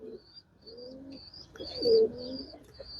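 Shahjahani pigeons coo in soft, low repeated calls, with a thin high chirping from other birds recurring above them.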